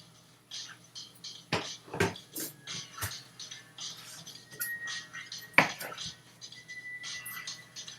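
A knife dices vegetables on a cutting board in a kitchen, irregular sharp chops and clacks close by, some louder strikes among softer taps, with light handling noise between cuts.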